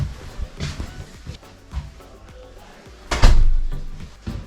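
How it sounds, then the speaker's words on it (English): A door is pushed shut inside a student house near SDU in Odense, Denmark, with soft handling knocks followed by one firm close, near and fairly loud, no talking. "Close the door please."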